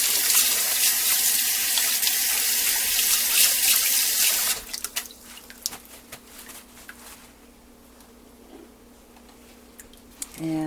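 Tap water runs hard into a kitchen sink while a whole chicken is rinsed before pressure cooking; the loud steady gush softens partway through to a quieter trickle with small clinks.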